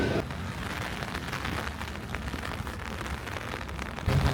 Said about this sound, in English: The rain has picked up a little bit, so I've got my umbrella out.